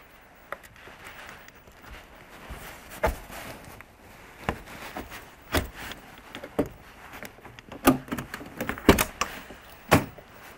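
Sharp mechanical clicks and clunks scattered over several seconds, ending in a run of louder knocks as a Volvo's door latch is worked and opened without a key.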